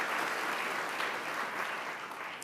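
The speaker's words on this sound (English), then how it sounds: "Give them another round of applause." Enthusiastic audience applause at an award ceremony, a dense wash of clapping that holds steady and tapers slightly near the end.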